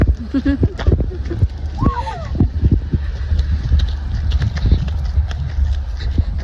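Horse on a farm, heard as steady clip-clop hoof steps and movement at close range, with voices talking over it and a brief higher vocal sound early on.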